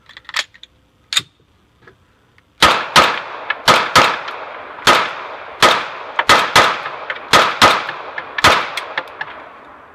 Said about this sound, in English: Now we're going to shoot out of the Ruger P95, and that's what we converted it for.